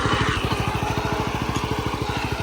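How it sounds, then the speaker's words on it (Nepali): A tractor engine chugs steadily on a farm field during rice planting, a fast regular low-pitched pulse running loud and close throughout with a broad rough noise layer above it. "हामीले चाहिँ ट्र्याक्टर ल्याइसक्यौँ हाम्रो खेतमा।"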